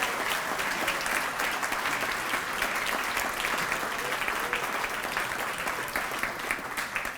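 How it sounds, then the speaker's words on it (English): An audience claps for honorees at a women's roll of honor ceremony. The applause is dense and sustained at an even loudness from start to finish, with many hands clapping. "How about a nice round of applause for all of our honorees?"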